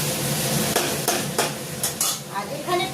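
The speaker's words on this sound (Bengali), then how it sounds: "আমি এটাকে বেশ ভালো করে নাড়বো, নাড়তে থাকবো।" Food frying in a pan is stirred with a utensil, a steady sizzle running underneath as several sharp scrapes and taps against the pan break through, with no voices.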